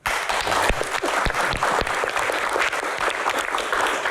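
Audience applause at a Q&A event with a government minister as guest: steady, dense clapping from a full room, loud and sustained for several seconds with a few sharper individual claps standing out.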